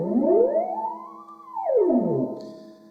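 An Ondes Martenot played by sliding a ring along its string gives one smooth, loud tone that glides up, holds, then swoops back down, with a rich harmonic timbre and no talking.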